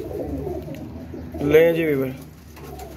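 Pet pigeons coo in a short burst midway, a soft warbling call close by, with a voice speaking briefly before it and low background murmur around it.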